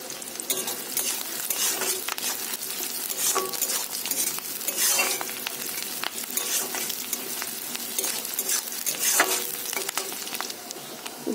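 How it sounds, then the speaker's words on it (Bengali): Onion fries in a pan with cardamom, whole cumin and bay leaf, a dense continuous sizzle and crackle that holds steady throughout, with frequent metallic scrapes and clinks from stirring. "পেঁয়াজটা খুব ভালো করে লাল লাল করে ভেজে নেব"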